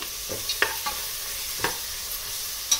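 Green chili paste with ginger garlic paste fries in a pan, giving a low steady sizzle broken by a few sharp scraping stirs. No one speaks.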